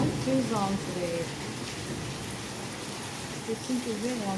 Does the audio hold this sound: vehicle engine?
no